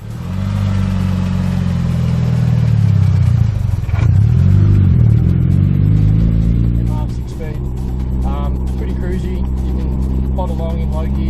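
A Mitsubishi Evo 8 MR FQ-340 pulls uphill in fourth gear at low revs. The engine drones loud and close with a slowly shifting pitch, then settles lower toward the end.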